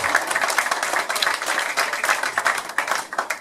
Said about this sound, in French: je ne sais pas si vous l'avez applaudi, mais je crois que vous pouvez le faire